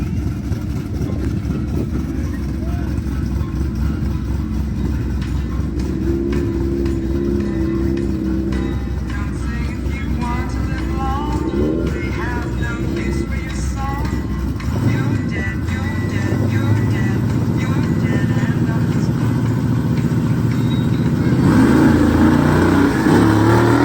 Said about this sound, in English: It was bogging coming off the line, cutting out coming off the line.